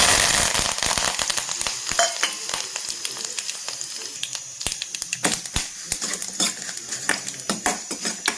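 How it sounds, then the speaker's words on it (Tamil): Mustard seeds pop and dried vathal fries in oil in a kadai: a loud, close sizzle with frequent sharp crackles that become sparser, distinct pops as the clip goes on, with no talking. "இதில் எண்ணெய் சேர்த்து கடுகு பொரிஞ்சதும் நம்ம வந்து இந்த வத்தலையும் கலப்பில்"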